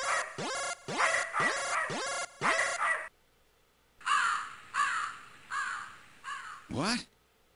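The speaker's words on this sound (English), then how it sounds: "it's just a crow." A crow cawing in the video game Snatcher, with a quick run of about five harsh caws, a short pause, and then several more loud, close calls.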